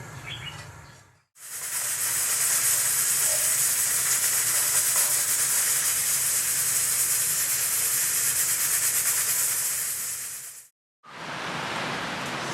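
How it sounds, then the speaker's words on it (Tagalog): Pressure cooker hissing steam in a home kitchen, a loud steady broadband hiss that runs unbroken for about nine seconds, then cuts off abruptly and returns after a brief silence. "Pressure cooker."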